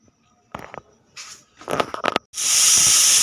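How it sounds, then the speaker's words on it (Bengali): A pressure cooker making khichuri early in the morning: a few scattered clanks and rattles, then the whistle bursts into a loud, steady, close hiss that continues to the end. "প্রেশার কুকারে সকালবেলা সিটি মারছে"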